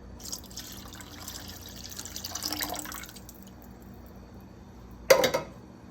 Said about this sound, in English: And now the can of water.